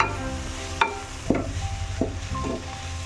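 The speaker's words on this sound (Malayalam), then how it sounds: "പൊടികളൊക്കെ നന്നായിട്ട് ഇളക്കി യോജിപ്പിച്ച് ഇതിൻ്റെ പച്ചമണം മാറുമ്പോൾ" A spoon stirs coriander powder, garam masala and pepper powder into oil in a pan for chicken roast, with a soft sizzle and several distinct scraping strokes against the pan.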